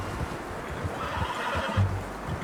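Horse whinnying and snorting in the Red Dead Redemption 2 video game, a close, moderately loud neigh over low ambient rumble and faint hoof movement.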